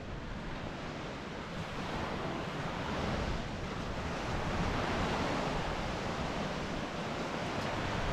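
Sea waves wash onto a sandy beach along the Portixol promenade, a steady broadband roar that swells and recedes gently, with some wind noise and no voices.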